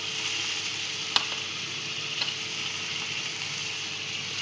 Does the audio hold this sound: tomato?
yes